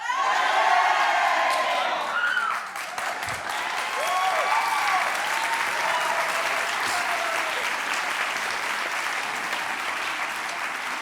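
A large audience from Fraga shouts and cheers, a broad sustained roar of applause, whoops and yelling that stays loud and dense throughout.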